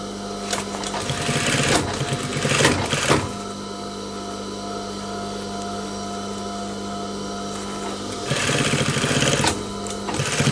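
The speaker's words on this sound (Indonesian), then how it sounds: "Kemudian kita lanjut menjahit sesuai lebar kampuh." A sewing machine stitches a collar seam in bursts, a rapid buzzing whir at the start, around two to three seconds, and again near the end, with a quieter steady hum between runs.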